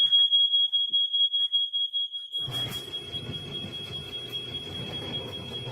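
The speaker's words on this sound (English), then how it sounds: "The smoke alarm went off." Smoke alarm shrieks in a rapid series of piercing high beeps, then continues more faintly under a burst of background clatter and household noise.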